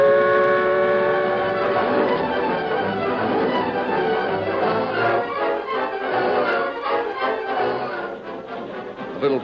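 A steam train running in an old radio drama sound effect, a dense steady chugging rumble with rhythmic clatter that holds loud throughout, slightly pulsing toward the end.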